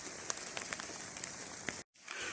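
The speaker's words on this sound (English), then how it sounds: "But now, like, it's raining" Steady rain patters on a surface nearby, a dense hiss with scattered drips and taps, briefly cutting out before resuming.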